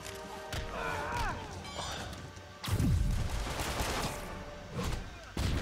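Gunfire bursts out in the Spider-Man Heist DLC video game, with a sharp volley midway and another at the end, over game effects and a tonal whoosh earlier.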